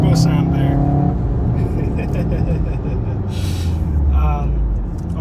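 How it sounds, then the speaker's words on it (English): Turbocharged EA888 engine in a manual VW Golf R accelerating, a loud steady rumble with a rising whine building underneath and a brief hissy burst near the end, heard from inside the car. "This thing is really linear on power delivery, and you get a nice turbo sound there."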